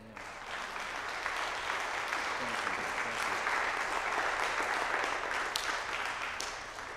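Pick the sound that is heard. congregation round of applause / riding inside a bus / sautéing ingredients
congregation round of applause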